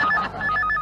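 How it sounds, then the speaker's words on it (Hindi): A telephone rings in short, repeated electronic trills, clear and close, with no talking over it. "फोन।"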